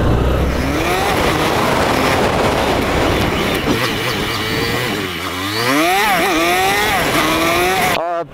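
Engine of an A1 learner motorcycle, ridden and downshifted with small jerks, drones loudly and steadily, its pitch sweeping up and down across gear changes before cutting off abruptly at the end.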